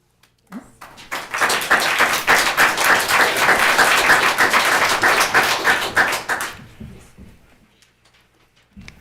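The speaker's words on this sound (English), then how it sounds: "I would like it if you would refrain from clapping." Audience members at a city council special meeting break into clapping, a loud burst of many hands that rises fast, stays strong for about six seconds and then fades, followed by faint room sounds.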